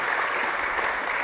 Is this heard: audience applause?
yes